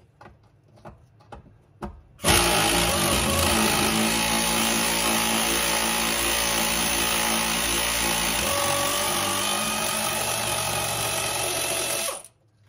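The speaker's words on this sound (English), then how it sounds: "My compressor kicks in, I'll stop talking until it stops" An air compressor in a garage starts abruptly after a few faint knocks, runs loud and steady with a constant mechanical drone for about ten seconds, then cuts off sharply.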